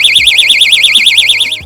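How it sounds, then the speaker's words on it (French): A door-block alarm sounds loud and close, a steady warbling electronic siren rising and falling about a dozen times with no pauses, then cutting off abruptly. "Placez le bloc-porte et activez son alarme."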